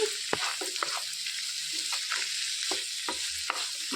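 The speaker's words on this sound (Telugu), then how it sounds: "ఇందులోనికి చిటికెడు పసుపు వేసుకోవాలి ఒక ఉల్లిపాయ కట్ చేసి వేసుకోవాలి మొత్తం కలిపేసుకోవాలండి" Sliced onion and a pinch of turmeric sizzle in a pan for amaranth leaf curry while being stirred, soft frying hiss punctuated by repeated quick spoon taps and scrapes, close and without speech.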